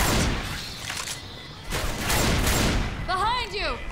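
Gunfire in Left 4 Dead crackles in dense bursts amid a chaotic battle, with voices calling out over the shooting and a warbling tone rising near the end.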